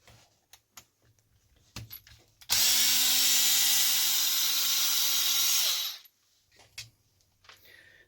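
Power screwdriver backing screws out of a Redcat Kaiju RC truck: one loud, steady whirring run of about three and a half seconds, with light clicks and handling before and after, close up and without talk.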